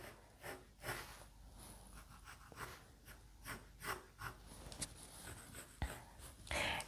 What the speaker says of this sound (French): je vais mieux dessiner le contour